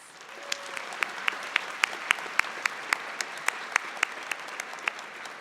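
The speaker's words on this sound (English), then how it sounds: "so let's give them a special round of applause" A graduation convocation audience applauds steadily, with many hands clapping in a dense, sustained patter and a few sharper claps standing out.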